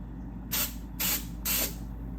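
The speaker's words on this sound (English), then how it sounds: "So let's spray it all the way to the edge of the flange here" Three short bursts of 3M 847C adhesive sprayed from an aerosol can onto a car body flange, evenly spaced hissing blasts about half a second each, close up over a low steady background hum.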